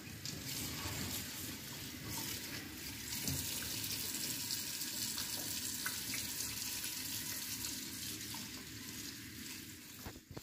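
Tap water runs steadily into a sink as leafy saag greens are washed and left to drain, a continuous close splashing hiss with no talking.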